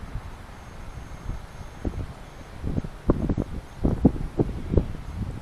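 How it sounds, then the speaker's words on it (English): Wind blows outdoors at a quiet site, with soft rustling gusts that swell and fade in irregular bursts, growing a little stronger toward the end, with no talking. "Another wind's blowing, but it's actually doing a good job of staying steady."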